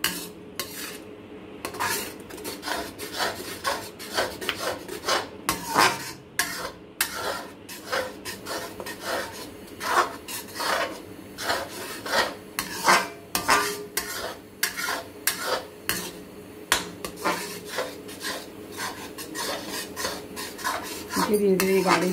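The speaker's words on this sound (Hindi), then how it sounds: "एक तार की चाशनी बन चुकी है, हम इसको 2-3 मिनट और चलाएंगे।" A spoon scrapes and clinks steadily in a pan as sugar syrup for raw mango chutney is stirred, a rapid, continuous rhythm of close metallic scraping with soft sizzling beneath.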